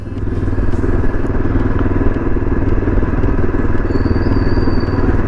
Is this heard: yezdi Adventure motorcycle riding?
yes